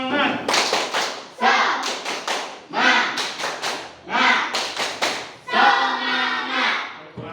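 Schoolchildren in a classroom performing a rhythmic spirit clap, sharp patterned claps and taps in quick bursts mixed with group chanting voices, loud and near.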